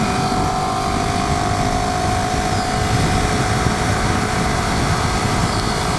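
The engine of a Ducati 848 Streetfighter motorcycle drones loudly and evenly while riding, a constant close roar mixed with rushing wind and no talking.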